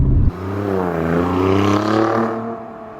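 Ferrari-engineered engine of an Alfa Romeo Giulia Quadrifoglio, 500 hp, revs up and holds a steady, loud, rising drone for about three seconds, close by, with no talking.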